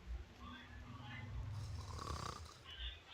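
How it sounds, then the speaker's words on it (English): A snoring apple character in the video game Reverse: 1999 makes slow, breathy snores over a steady low background bed of game audio. "What we want to know is how an apple can snore."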